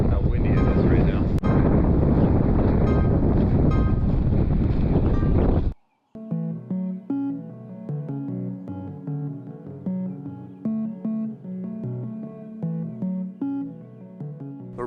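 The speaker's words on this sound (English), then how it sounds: "It's crazy how windy it is right now." Strong outdoor wind buffets the microphone with loud, roaring gusts for about six seconds, then cuts off abruptly, leaving a quieter stretch of tonal, music-like sound.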